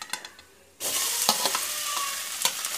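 Mashed potato with cumin powder and red chili fries in oil while being stirred for batata vada, a loud close sizzle that kicks in abruptly after a brief quiet scrape and carries on with stirring knocks.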